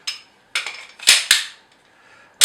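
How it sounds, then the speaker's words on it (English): Sharp metallic clacks and snaps from handling an empty handgun and its empty magazine, a few separate close, loud clicks spaced apart with short silences between them. "Empty magazine, empty gun."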